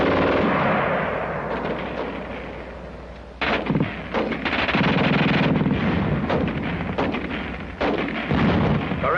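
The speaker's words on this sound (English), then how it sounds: "The German gun shoots fast." German machine gun firing in what sounds like an old military training film: rapid bursts of automatic fire, loud and somewhat distorted, broken by brief pauses and sharper cracks, with no voices.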